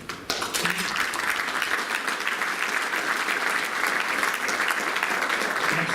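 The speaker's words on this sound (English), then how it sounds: "I'd like to have a big round of applause for them" Sustained applause at a college basketball friends dinner honoring the team managers, dense and steady clapping from a large room that starts abruptly and holds for several seconds.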